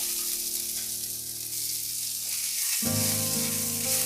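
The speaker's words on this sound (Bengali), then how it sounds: "এবার দিয়ে দিচ্ছি আমি বাঁধাকপি একটু হাই হিটে এটাকে ফ্রাই করতে হবে" Cabbage stir-frying on high heat in a pan for veg chow mein gives a loud, steady sizzle throughout, with the frying hiss swelling noticeably partway through as the pan flares up.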